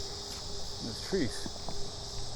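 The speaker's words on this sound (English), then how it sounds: "Oh, the cicadas chirping." Continuous shrill chorus of cicadas in trees at steady level, a dense buzzing drone of many insects together, with some faint background noise.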